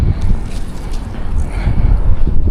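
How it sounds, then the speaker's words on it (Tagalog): Strong wind roars and buffets steadily, heavy low rumble throughout with gusts swelling near the end; no voices. "Parang lalong lumalakas ang hangin."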